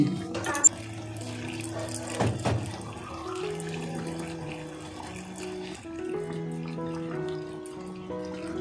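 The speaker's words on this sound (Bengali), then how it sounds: "চা পাতা সিদ্ধ করে লিকারটা বার করা ছিল, সেই জলটা এখন দিয়ে দিলাম মাটনের মধ্যে।" Boiled tea liquor poured from a vessel into mutton in a pot for Golbari-style kosha mangsho, a close liquid pour and splash with a sharp clink early on, steady through the middle.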